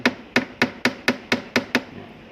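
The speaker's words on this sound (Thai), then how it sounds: "แข็งก็ต้องใช้ค้อนช่วยนะครับ มันมีความเสี่ยงการใช้ค้อนช่วยนะครับ" Eight sharp, evenly spaced hammer taps strike close by in quick succession, each a crisp knock used to loosen a Thai amulet from its setting, with no talking.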